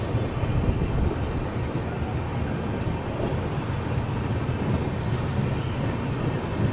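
Gondwana Express pulling into Badnera Junction station, a steady low rumble of rolling wheels and carriage noise that holds evenly throughout, with no voices over it.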